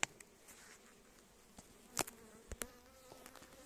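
Faint, close buzzing of honeybees at a hive during sunflower bloom, with several short louder passes as bees fly near, over a quiet hum.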